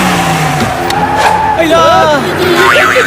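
A cartoon car peels away with squealing, skidding tires, the screech sweeping up and down in wavy tones over a busy layer of engine noise and background music, loud and close throughout.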